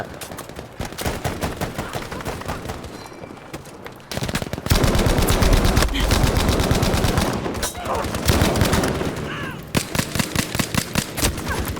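Machine gun fire in the Battlefield V shooter, long rapid bursts of close, loud shots with brief pauses, heavier booming fire in the middle, and occasional talk underneath.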